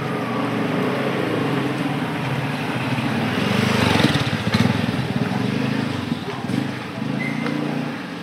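A motorcycle engine buzzes past in a village lane, rising to a louder peak midway and then fading as it turns off, over steady outdoor background noise.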